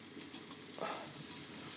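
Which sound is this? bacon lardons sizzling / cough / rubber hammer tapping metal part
bacon lardons sizzling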